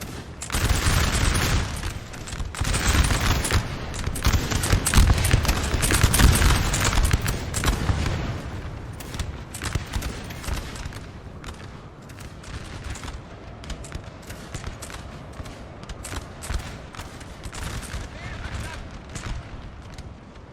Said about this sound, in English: This Russian line is slowly but surely wilting away under the concentrated fire of the French.